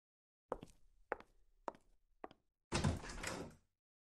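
A blocked door in The Walking Dead game is dragged clear: four short, close knocks and scrapes come at a steady pace, then a longer, louder grinding slide lasts about a second before going quiet.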